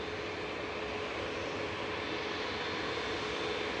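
An airliner lines up on the runway at Manchester Airport, its engines a steady, broad roar with a faint whine, continuous and fairly distant for the whole stretch.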